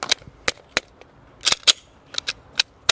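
A rapid string of sharp pistol shots fired at targets, ten rounds in quick bursts with short pauses, crisp and fairly close, each crack dying away quickly.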